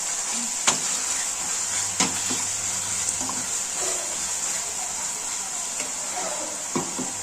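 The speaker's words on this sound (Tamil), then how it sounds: "இது நல்லா ஃப்ரை ஆகட்டும்." Mutton gravy masala with sour tomato frying in a pan gives a steady bright sizzle throughout, with occasional clicks of stirring against the pan and faint background murmurs.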